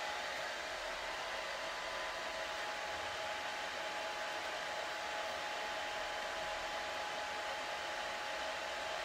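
A hair dryer runs continuously while drying curly hair, a steady, airy, high whooshing blow with a faint motor whine, held at an even level throughout with no talk.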